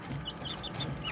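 Young Serama bantam chicks, about one to two months old, cluck and peep softly in a small brooder pen, a steady, faint chatter of several birds with no talk over it.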